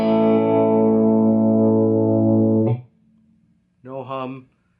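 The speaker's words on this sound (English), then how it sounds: "I'll play you a couple chords through the Blues Junior." An electric guitar rings out a sustained chord through a Fender Blues Junior amp, holding for nearly three seconds before cutting off, then a second shorter chord strummed after a brief pause, loud and close.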